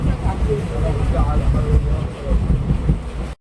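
A running train at night nearing Jaisalmer, Rajasthan, rumbles steadily with low rattling and rolling noise, voices faintly mixed in, cutting off abruptly at the end.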